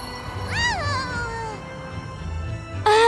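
A cartoon cat lets out a drawn-out, whiny meow with a rising then falling pitch, loud and close over background music, followed by a short higher cry at the end.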